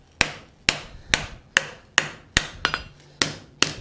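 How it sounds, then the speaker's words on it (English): Steel being hammered on an anvil while forging a fold-formed bowl, eight sharp ringing strikes at a steady rhythm, each ending in a short metallic decay, close and clear with no talk. "Hammer down in here a little bit."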